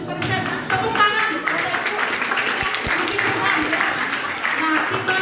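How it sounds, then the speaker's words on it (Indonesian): Audience applause at a Grade 6 farewell ceremony at SD Makedonia elementary school, a steady wash of clapping mixed with crowd voices and chatter running throughout. "Tepuk tangan"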